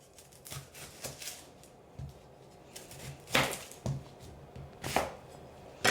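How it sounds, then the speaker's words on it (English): A kitchen knife dicing halved onions and garlic cloves on a cutting board at home, with sharp irregular chopping strikes, some louder and closer than others, over a quiet background. "So we're gonna start with our knife. We're gonna get to dicing."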